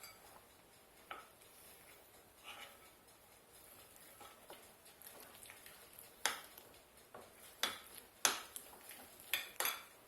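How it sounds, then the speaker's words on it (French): A utensil stirs crushed hazelnuts into egg-free, dairy-free banana bread batter in a bowl, making soft scraping and light clinks that grow into sharper taps against the bowl, close and quiet. "on rajoute nos noisettes concassées. Et puis de nouveau, on va venir bien mélanger l'ensemble."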